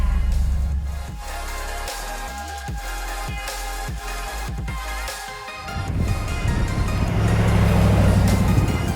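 A 1972 Ford Bronco on the move, its low engine rumble and road noise steady throughout, with a dip in the middle and wind or tire roar building louder toward the end.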